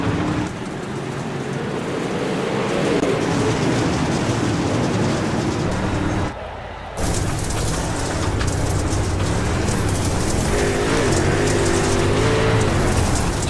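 Super late model race cars roaring off at the green flag in an iRacing league race at Lincoln, a loud sustained engine drone with rising pitch sweeps, briefly cut out midway, then resuming.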